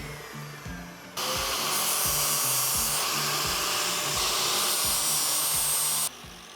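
A power tool, likely an angle grinder, cuts 3/4 inch steel bar stock with a loud, steady high-pitched screech lasting about five seconds, after a quieter idling stretch at the start.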